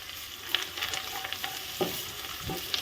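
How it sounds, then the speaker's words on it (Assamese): Turmeric and salt fry in a pan with a soft, steady sizzle, broken by occasional scraping and stirring strokes, close and alone. "অকণমান ভাজি লৈছোঁ।"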